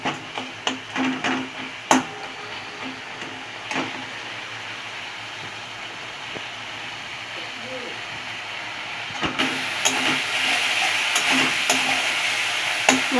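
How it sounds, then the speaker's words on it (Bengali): Spices stir-frying in oil for vegetarian Bengali jhal patol, a steady soft sizzle with intermittent scrapes and taps of a spatula against the pan, growing slightly brighter toward the end. "মশলাগুলো কষিয়ে নিচ্ছি"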